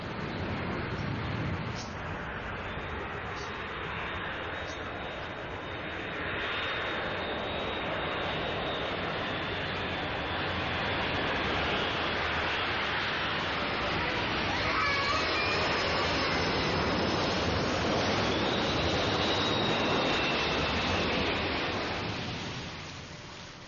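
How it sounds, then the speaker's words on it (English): An aircraft coming in to land at Hong Kong's International Airport makes a loud, steady engine roar that swells slightly and holds for over twenty seconds. "the flight path of aircraft coming into land at Hong Kong's International Airport"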